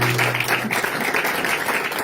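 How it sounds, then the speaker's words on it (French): Church congregation applauding during a special worship service, a dense steady patter of clapping filling the room throughout, with a low held tone underneath at the start. "Donne une bonne acclamation."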